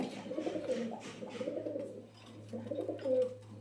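Pigeons cooing in a loft where a mated male and female have newly hatched chicks, a steady run of low throaty coos repeating close by with no talk.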